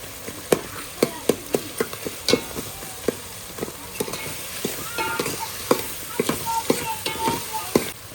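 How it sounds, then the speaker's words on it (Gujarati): Eggplant pieces being mashed and broken up with a spatula as they fry in an oiled pan for a mixed sola dish: sharp, regular spatula knocks and scrapes over a steady sizzle, close and fairly loud, with no talking. "રીંગણાના ફળવા આપણે થોડા જો આવી રીતે ભાંગી નાખવાના છે"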